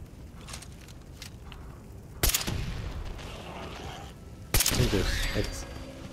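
Gunfire and a nuka grenade blast ring out in a post-apocalyptic zombie horde fight, with two sharp loud bursts rolling into noisy crackling decay over a constant background rumble.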